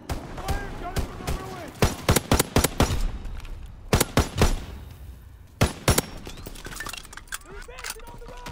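Gunfire in the Call of Duty ruins rings out in rapid clusters of sharp shots, loud and close, with scattered single cracks between bursts while radio voices talk over the fighting.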